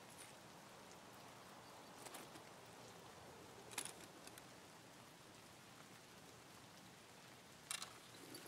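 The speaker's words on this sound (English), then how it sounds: "it's so hard to hear through the rain" Steady rain in the video game Escape from Tarkov, a dense, even hiss of falling drops that fills the background, with a few faint clicks and rustles breaking through now and then.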